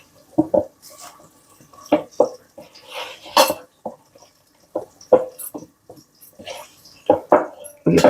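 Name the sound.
stirring onions in a pan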